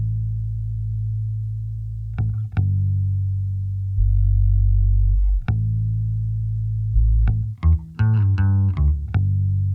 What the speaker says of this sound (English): The new thing that's coming in is the electric bass, which sounds like this